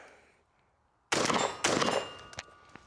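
A Benelli M4 EXT semi-automatic shotgun fires two loud, sharp shots about half a second apart after a quiet moment, followed by faint metallic clinks.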